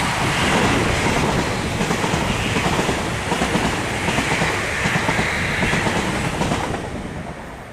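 A Class 350 electric passenger train passes close by at South Hampstead on its run from Milton Keynes to London Euston, a loud steady roar with rhythmic wheel clatter that fades toward the end.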